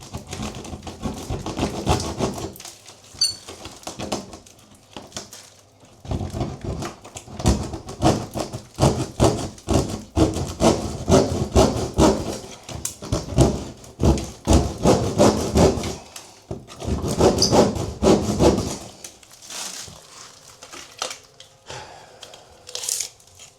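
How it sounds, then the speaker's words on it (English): Saw cutting through a wall near a leaking shower, bursts of rapid rasping strokes separated by short pauses, close and loud, no talk. "We got to cut this all the way up to about here."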